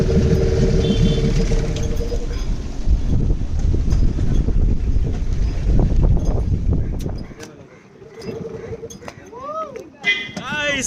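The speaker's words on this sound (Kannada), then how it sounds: "ನಮ್ ಬೋಟ್ ಮೂವ್ ಆಗ್ತಿದೆ" A moving boat on a friends' trip at Honnavar gives a loud, steady engine-and-water rumble with wind buffeting for about seven seconds. The rumble then drops off, and cheerful voices and chatter follow.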